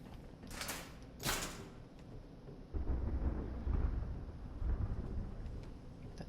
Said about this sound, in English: That thunder in this area sounds so cool.